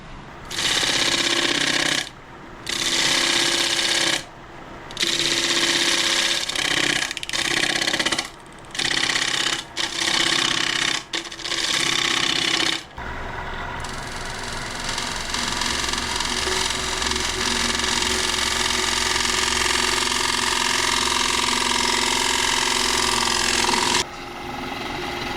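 A wood lathe hums and whirs at speed, first in stop-start bursts, then in a long continuous run of steady mechanical drone.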